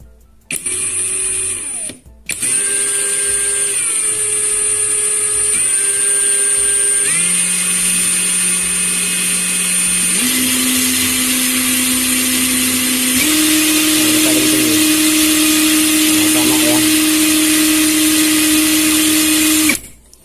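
A Kamolee DTW285 cordless impact wrench runs in the tightening direction, a loud, steady high-pitched motor whine that steps up in speed several times after a brief start and cuts off at the end.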